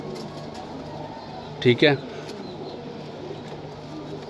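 A pigeon at a breeder's loft gives a short, close coo, with a soft hum and people talking nearby.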